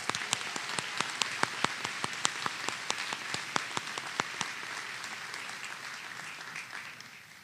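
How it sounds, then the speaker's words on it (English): An audience at a law school commencement ceremony claps in a steady, moderate round of applause with a few sharp individual claps standing out, gradually thinning as it goes on. "Please join me in giving all of our golden grads a round of applause."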